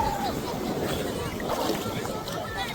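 Ocean waves breaking at a beach near Nasugbu port, Batangas, a continuous wash of surf and wind noise, with people talking faintly underneath.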